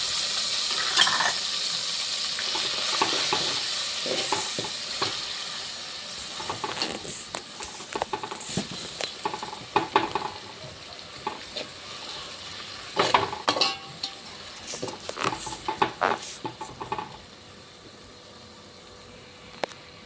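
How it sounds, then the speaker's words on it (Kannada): Green chili paste ground with greens fries in oil for brinjal palya, giving a busy, continuous sizzle broken by clinking and scraping from stirring in the pan, loud and close, then fading a little near the end. "ಅದನ್ನು ಎಣ್ಣೆ ಒಳಗೆ ಬೇಯಿಸ್ಕೊಂಡ್ರೆ ನೋಡಿ"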